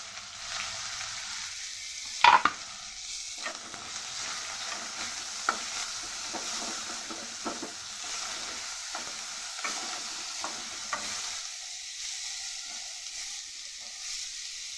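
Chopped onions fry in oil with bay leaf, dried chilli, cardamom, cloves and cinnamon, giving a steady hiss broken by scattered stirring clicks and a sharper clatter early on, with no talking.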